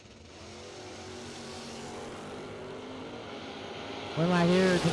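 Drag racing cars, a Camaro and a Firebird, rumble and drone steadily at the line before a loud, rising engine roar breaks out near the end as they launch.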